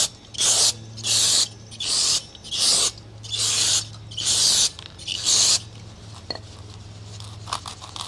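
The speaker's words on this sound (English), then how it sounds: "I'm just gonna hit it with some brake cleaner." Brake cleaner sprayed in seven short, loud hissing bursts onto a freshly sanded clutch flywheel, each blast about half a second long with brief gaps, followed by quieter dripping and faint shop clatter.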